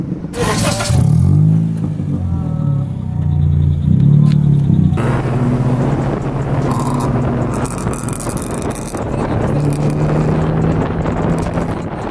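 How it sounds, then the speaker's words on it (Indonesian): Modified Honda Brio with a full Apino exhaust blipped through a few sharp revs, then settling into a loud, rumbling idle, close to the tailpipe. "untuk teman-teman yang penasaran kayak gimana bunyinya, yuk kita tes geber mobilnya"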